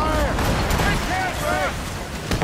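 Ship cannons firing in a naval battle in Assassin's Creed Rogue, heavy booming blasts layered over continuous loud combat noise, with shouted voices over the top.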